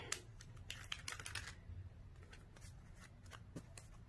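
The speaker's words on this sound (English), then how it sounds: "I'm gonna be shuffling for the rest of my life after this reading" A tarot card deck being shuffled close up, quick bursts of riffling card clicks early on and then softer intermittent shuffling, fairly quiet, with no talk.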